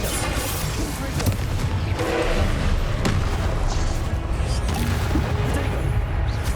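Confringo explosive spell going off in Hogwarts Legacy combat, dense booming blasts and crackling impacts layered over a loud, busy battle mix with sharp bursts around the middle.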